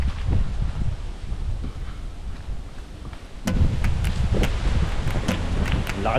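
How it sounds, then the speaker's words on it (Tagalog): Strong wind blowing on a downhill road, a steady loud roar with gusty buffeting against the microphone that grows heavier halfway through. "Lakas ng hangin."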